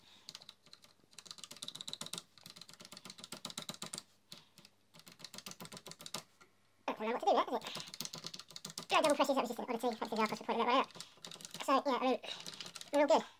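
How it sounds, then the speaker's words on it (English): Keys being typed on an Acorn A3000 computer keyboard after connector and membrane repairs, a run of close clicking keystrokes heard mostly under ongoing talk, with a few brief pauses. "I'll just quickly show you all the keys working."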